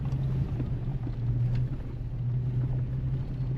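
A vehicle grinds up a steep, rough forest road past campsites, its engine a steady low rumble with a droning hum throughout, close and continuous, with some wind buffeting.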